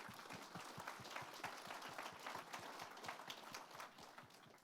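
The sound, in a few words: warm round of applause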